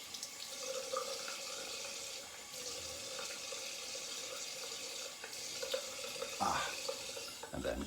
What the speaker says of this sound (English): Lukewarm water rinse.